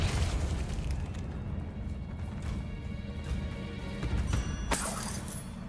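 A Confringo fire spell explodes in Hogwarts Legacy on PS5, a dense rumbling blast with crackling bursts and a sharp crash near the end, loud and sustained throughout.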